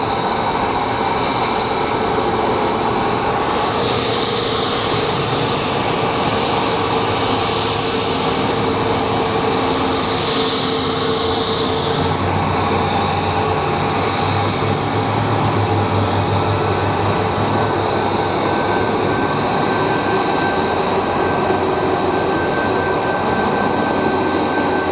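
Boeing 757 engines at Phoenix Sky Harbor International Airport on a rainy day, a loud, continuous jet roar with steady whine and rumble filling the whole stretch, with no talk.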